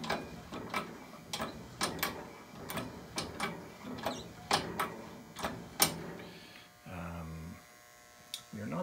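A King Canada 10-ton hydraulic shop press being hand-pumped, giving a series of regular clicking, ratcheting strokes about every half second, close by, ending with a brief mechanical hum.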